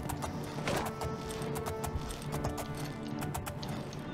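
Rapid horse hoofbeats clatter in a steady galloping rhythm in the video game Oblivion, mid-distance and continuous, over a low rumbling background with no talking.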